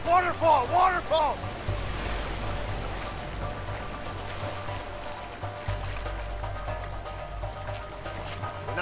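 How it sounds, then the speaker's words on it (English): Rushing water roars steadily near a waterfall in the video game A Way Out, with a shout at the start before the dense wash of noise carries on unbroken. "Waterfall, waterfall!"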